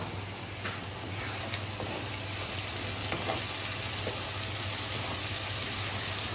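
Food for dal makhani being stirred in a pan to keep it from sticking: a constant close sizzle with faint, scattered scrapes of the spoon, and no talking.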